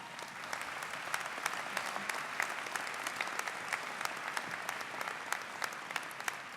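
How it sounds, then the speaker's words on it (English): Sustained applause from a large audience at a Unitarian Universalism General Assembly service, a dense even patter of many hands clapping with scattered sharper claps, moderately distant and unbroken. "That's worth applauding."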